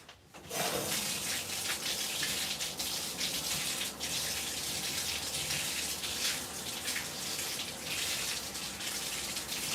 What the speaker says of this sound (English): let me put the water in the cup.